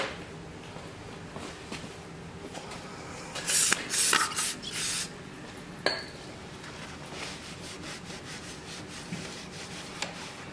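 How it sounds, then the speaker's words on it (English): Brake cleaner sprayed onto a snowblower disc in short hissing bursts, then a rag rubbing and wiping the metal with soft scuffing strokes and a sharp clink, heard close with no talk. "Now I'll go ahead and take some brake cleaner and I'll clean this disc up."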